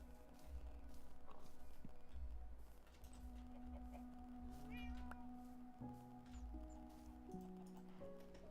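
A cat meows inside Minecraft, its calls rising a few times above layered game music and ambient tones, moderately clear amid steady background sounds.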